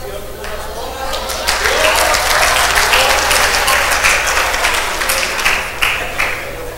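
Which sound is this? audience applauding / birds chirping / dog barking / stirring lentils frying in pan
audience applauding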